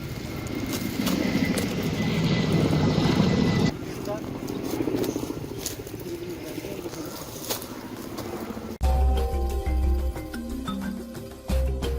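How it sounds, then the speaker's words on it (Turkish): A loud, steady rotor-like roar of a helicopter fills the first part, then fades into a lower rumble with some clattering sounds near the end. "Helikopter geldi."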